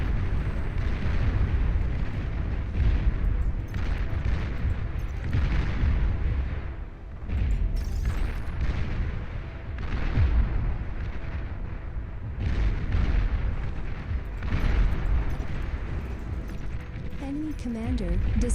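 Rumbling explosions and artillery-like blasts as a commander is destroyed in Beyond All Reason, a dense continuous roar of detonations with a brief dip before resuming.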